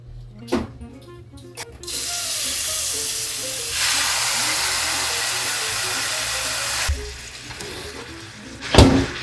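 Steady sizzling and hissing of meat frying in a hot stainless steel wok with a little oil, loud and continuous with a few sharp clatters at the start and end.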